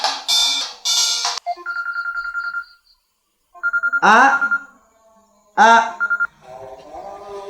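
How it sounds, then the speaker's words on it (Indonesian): A telephone rings in repeated electronic bursts, loud and close, with a short pause between groups of rings. "Telepon."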